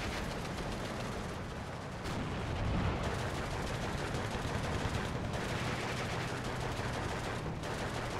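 Tank guns fire in a wartime battle game featuring Panther tanks, with a few heavy booming blasts spaced several seconds apart over continuous rumbling battlefield noise.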